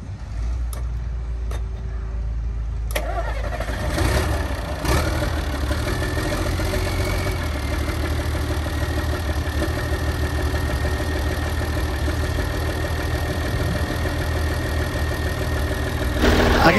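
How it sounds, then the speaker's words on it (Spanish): A classic diesel truck engine, a Kenworth W925 or International, idling with a steady low rumble and mechanical clatter after a couple of clicks and a start-up, close and continuous throughout. "está funcionando el motor"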